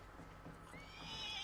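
A horse in Red Dead Redemption 2 gives a brief, rising neigh toward the end, over a low rumble of background sound.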